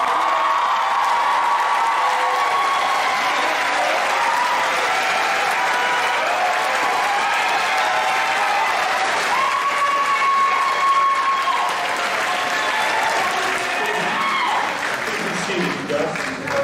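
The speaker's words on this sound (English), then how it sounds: "Big round of applause for us." Audience applause fills a high school graduation ceremony, with steady dense clapping and scattered cheers and whoops, loud and continuous throughout, with a voice speaking over it partway through.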